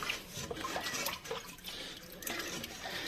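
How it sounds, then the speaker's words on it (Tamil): Water splashes and drips steadily from a running filter motor in a flowerhorn aquarium, a soft continuous trickle with irregular patters, fairly quiet and without talk. "ஸோ தண்ணி வந்து இங்கே மோட்டர் ஓடுறதுனால ட்ராப் ஆகுது."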